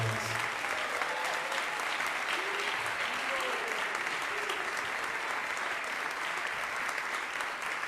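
Sustained applause from a crowd at an ISKCON New York fundraiser as a longtime devotee is introduced, a thick, even wash of clapping filling all eight seconds.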